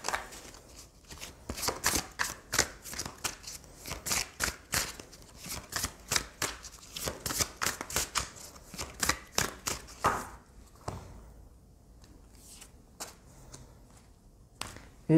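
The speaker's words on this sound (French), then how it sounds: "je commence avec une carte de l'oracle Tao." Tao oracle cards are shuffled in a quick run of crisp riffling flicks and slaps, steady and close for about ten seconds, then a few scattered taps and shuffles after a brief pause.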